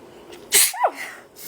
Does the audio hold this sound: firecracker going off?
no